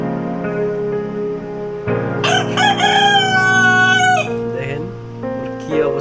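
A rooster kept in a small cage in the city crows loudly and close by, one long drawn-out call over a steady background hum, with another chicken briefly calling near the end.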